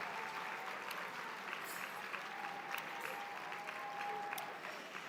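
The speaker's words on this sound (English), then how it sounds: "Please give her a round of applause." An audience at an International Women's Luncheon gives a steady round of applause, dense clapping at moderate volume with a faint voice or tone briefly audible underneath.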